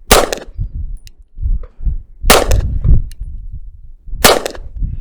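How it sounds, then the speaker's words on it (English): Handgun fired at a distant target at 50 yards, three sharp loud shots spaced about two seconds apart, each followed by a short ring and echo, with no talking. "Once in a while I need to do some distance practice with a handgun"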